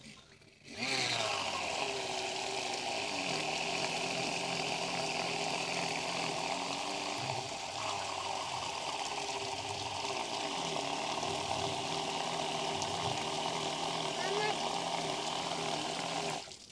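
A homemade water motor pump runs steadily for the whole stretch, throwing a forceful spray of water with a continuous rushing hiss and a low motor hum underneath, loud and close, with faint engine-like pitch shifts.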